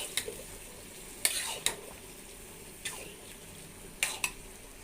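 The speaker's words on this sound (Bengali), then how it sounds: "পান্তা ভাতটাও এখন দিয়ে দেব, দিয়ে আমি একটু কষিয়ে নিব।" Leftover soaked rice (panta bhat) fries and is stirred for a khichuri, with a steady sizzle and a few sharp scraping clinks of the spoon against the pan, no talking.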